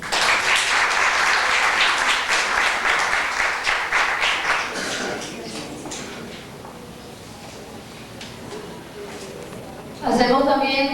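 An audience at an education seminar applauds in a dense, steady wash of clapping that gradually thins and fades, before a voice comes in over the last of it.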